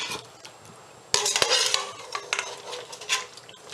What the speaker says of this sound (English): start fishing out the potatoes and the carrots and the onions